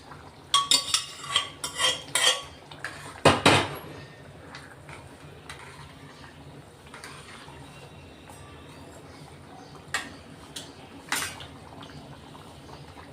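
Cooked toor dal, pressure-cooked until soft, is tipped into a pan, starting with a run of sharp metallic clinks and scrapes of utensils against cookware, then fading to a quieter, softer stretch with a few scattered taps.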